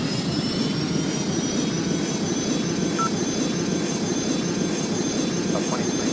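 Boeing MD-90 engines roar during takeoff in the Airline Commander game, a steady loud rumble with a thin rising whine running continuously, with no talk.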